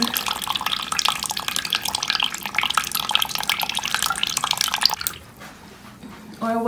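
Running water from a shower spraying steadily while something is rinsed under it, a continuous hissing splash that cuts out near the end before a brief resumption.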